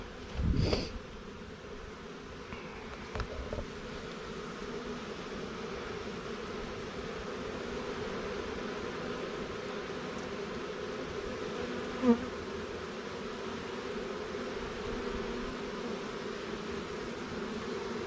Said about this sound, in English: clearly there's probably 15-20 pounds of bees